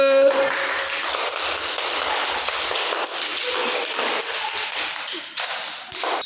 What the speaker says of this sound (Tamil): கிளாப் பண்ணுங்க எல்லாரும்.